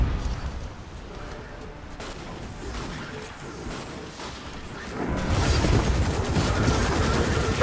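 Missile attack in Destiny 2, with rumbling impacts and sharp blasts at first, then a sustained roar of explosions and weapon fire swelling loud after the midpoint.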